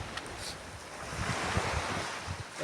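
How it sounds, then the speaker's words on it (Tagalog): Waves breaking on a beach shore near a pier, a steady close wash of surf with rumbling wind buffeting the microphone. "Yung hampas ng Dalampasigan."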